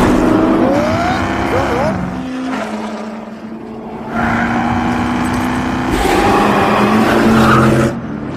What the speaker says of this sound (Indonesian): Carol mengajak Ken ke bandara Los Angeles untuk menguji mobil Ford prototype GT40